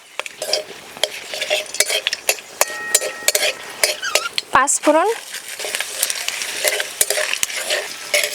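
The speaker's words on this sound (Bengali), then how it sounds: "কড়াইতে আরও একটু সরষের তেল দিয়ে দেবো। ফোড়নে শুকনো লঙ্কা, তেজপাতা" Dry red chillies and bay leaves frying in mustard oil in a wok, a close, continuous sizzle broken by sharp metallic scrapes and taps of a stirring spoon against the pan.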